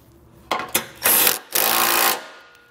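A socket wrench with a 17 mm socket snugs down the bolts of an etrailer hitch receiver on a 2021 Subaru Outback wagon, giving short loud buzzing, rattling bursts followed by a longer sustained run.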